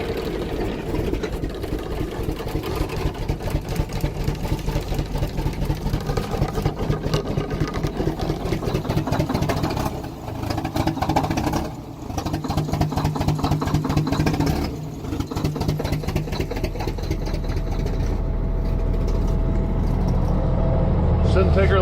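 A truck engine idles steadily while warming up at a frac tank farm, a continuous low rumble running throughout with a brief dip midway and a person talking over it.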